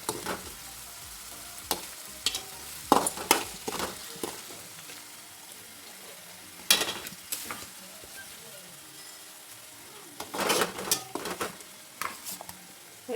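A spoon stirs and scrapes a sugar and spice mixture in a pan, with irregular clinks and scraping strokes over a faint sizzle, close by and with no talking.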